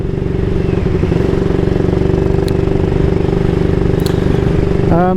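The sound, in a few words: 1938 AJS Model 22 250cc motorcycle engine riding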